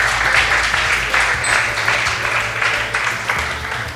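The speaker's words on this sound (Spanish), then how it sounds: "Damos un aplauso para motivarlo." A seated audience applauds at the opening of a national biology lecture series, a steady, dense wash of many hands clapping, loud and close, sustained for several seconds with no speech over it.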